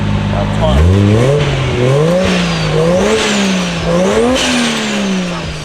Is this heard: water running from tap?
no